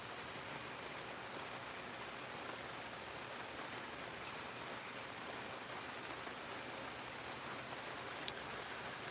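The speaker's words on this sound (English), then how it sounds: "The rain is starting to pick up, man." Steady rain falling outdoors in a garden, a dense, even hiss of drops on surfaces that holds constant throughout, faint and with no voices.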